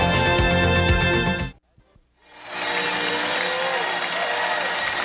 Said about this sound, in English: a terrific crowd at the Carrier Dome today